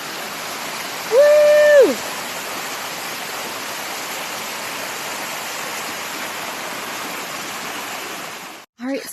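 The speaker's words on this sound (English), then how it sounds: "what we have is Anstruther Falls" Anstruther Falls pours as a steady, broad roar of rushing water beside the portage trail from Rathbun to Copper, constant through the whole stretch, with a brief shout of a voice near the start.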